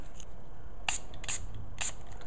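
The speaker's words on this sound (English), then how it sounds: "take three sprays from this water bottle to simulate dampness or mist" Three quick hissing spritzes from a water spray bottle onto a storm-proof matchbox, evenly spaced over a steady background hiss, close by.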